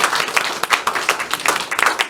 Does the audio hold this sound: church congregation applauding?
yes